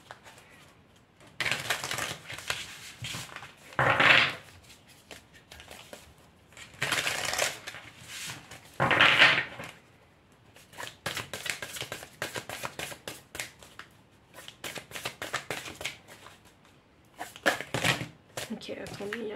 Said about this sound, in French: je vais tirer les dernières cartes oracle.